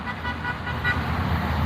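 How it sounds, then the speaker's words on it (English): Car horns honk over steady roadway traffic on the 494 interstate in the Twin Cities, sounding passing drivers' toots for a roadside flag-waving rally; the tones are moderately loud against continuous engine and tire rumble. "You hear them horns honking too."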